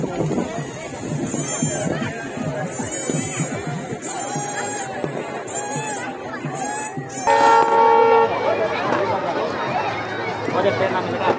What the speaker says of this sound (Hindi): सामने से ट्रेन भी आ रहा है, देखो कितना स्पीड